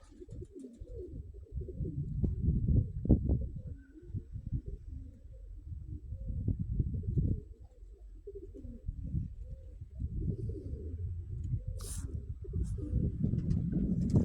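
Pigeons coo and call outdoors on a grey, darkening evening as the flock begins to settle, a steady low burbling layered with occasional sharper bird sounds throughout.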